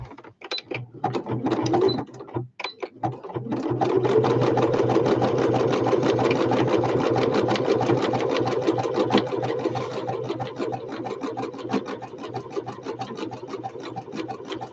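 Sewing machine stitching fabric for a machine cover, a few brief starts and then a long, steady, rapid mechanical whir of stitching close by, with no talking.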